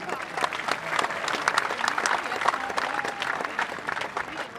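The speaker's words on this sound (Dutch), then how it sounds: "En een applaus voor het publiek." Audience applause at a women's keatsen final, a steady crowd of many hands clapping at moderate distance, sustained throughout without pause.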